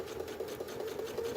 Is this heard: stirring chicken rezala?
no